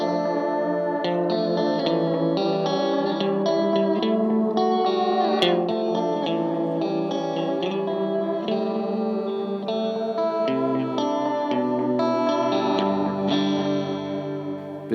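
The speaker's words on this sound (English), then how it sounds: "This is a fully analog delay using Bucket Brigade devices with tap tempo, independent modulation controls." Memory Lane 2 fully analog bucket-brigade delay pedal on guitar, sustained chords and notes ringing out with echoing repeats and a wavering modulated shimmer, played alone without talk.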